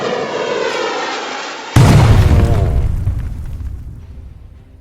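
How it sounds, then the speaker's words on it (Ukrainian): Smoke grenade in a zombie apocalypse video game set at an abandoned power station, a whooshing in-flight rush cut by a sudden loud bang, then a long hissing, rumbling release fading out, close, no talking. "Я думаю, що це просто димова шашка."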